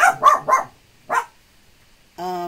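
Several dogs barking in quick bursts, three sharp barks close together, then a single bark after a pause, and finally a longer whining yelp, fairly near with no talk.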